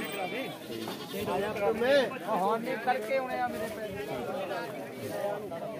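Goats bleat repeatedly in wavering cries, close by at a livestock sale, with people talking over them throughout.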